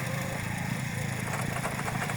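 Steady engine drone from a well drilling rig working in compacted, hard ground in rural Russia, running continuously at close range with a constant low rumble and no pauses.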